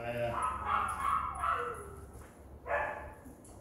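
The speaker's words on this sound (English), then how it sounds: "The howling is the very large husky puppy I was talking about." A very large husky puppy howls in drawn-out, wavering cries, two long howls with a pause between them, heard at moderate distance outdoors during a dog training lesson.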